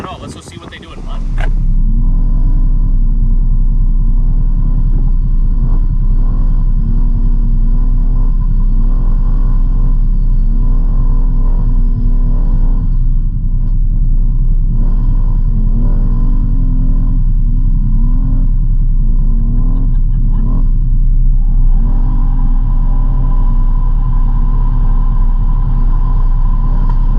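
A RZR side-by-side on General Grabber A/TX tires drives through mud, its engine giving a steady, loud low drone and rumble throughout with slight variations in pitch, and voices talk over it.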